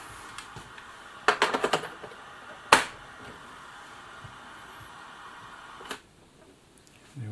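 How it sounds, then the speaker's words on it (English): Keys clack on a Dick Smith Wizzard home computer keyboard, with a quick burst of several taps followed by a sharp single strike and one later press, each separated by quiet hum. "Keyboard's not happy. No keys responding on the right hand."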